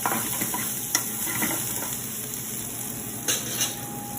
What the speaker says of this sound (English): And you'll kind of just give that a stir so it's nice and mixed up.